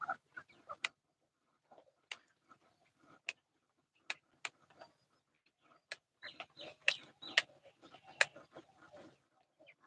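Broiler chickens in a small home flock on a cold evening make sparse, quiet clucks and sharp peeps, scattered at first and then clustering more busily toward the end against near silence.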